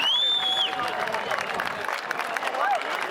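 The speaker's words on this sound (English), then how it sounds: "So give everyone a cheer for coming out today and supporting it." Crowd applauding and cheering at the 21st Midsumma Pride March 2016 in the City of Port Phillip, a steady wash of clapping and voices with a couple of whistles, fairly close and continuous.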